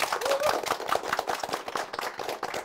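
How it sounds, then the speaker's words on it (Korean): An audience at a business talk event claps for three MCs, producing a brisk, irregular patter of many hands, moderately loud and steady across the short span. "3명의 MC분들 박수 부탁드리겠습니다"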